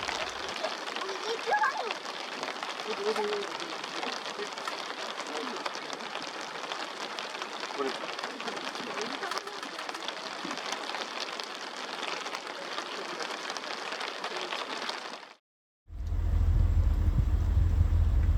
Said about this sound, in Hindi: बारिश काफ़ी देर चली